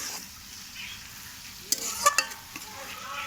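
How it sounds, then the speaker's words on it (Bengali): Fenugreek greens frying in a pan give a soft, steady sizzle, with a few brief clinks from stirring near the end. "মেথি শাকটা দেখো খুব সুন্দর ভাজা হয়ে গেছে"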